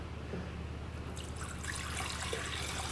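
Ten ounces of water pouring into a Total Pet Kitchen appliance as the first ingredient for homemade dog food, a steady close trickle that grows slightly fuller over a constant low hum, with no talking.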